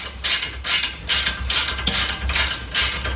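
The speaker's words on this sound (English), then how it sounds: "Alright, let's loosen it. These castle nuts aren't on real tight." Steering castle nuts on a 2013 Toyota Avalon are loosened during a rack-and-pinion replacement. A ratchet wrench clicks loudly in steady, rhythmic bursts, about seven strokes, close up with no talking.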